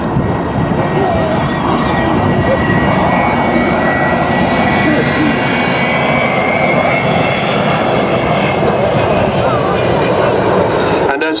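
The Avro Vulcan XH558 jet bomber passes at the September 2014 Duxford airshow, a loud, steady, continuous engine roar with a whining tone sustained throughout, close by and unbroken.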